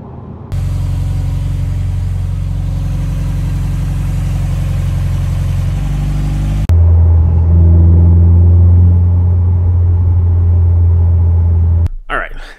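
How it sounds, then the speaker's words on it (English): A Subaru STI with an external wastegate rumbles at a loud, steady idle, then shifts to a deeper, heavier drone partway through before cutting off near the end, with people talking over it. "That external wastegate sound."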